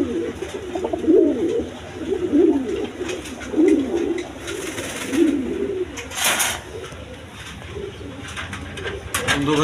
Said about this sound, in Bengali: এটা নিতে পারবেন গিরিবাস কবুতর, হাই ফ্লাইং কবুতর দেখেন